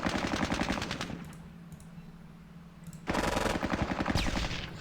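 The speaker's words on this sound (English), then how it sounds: "Just keep firing at those guys." Rapid automatic gunfire from the Vietnam-era war game Squad Battles Dien Bien Phu: dense rattling bursts, a brief quieter lull with scattered pops, then another loud, sustained volley, with no talking.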